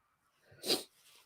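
A single short sneeze, fairly quiet and close, with a quick breathy burst and otherwise near silence around it.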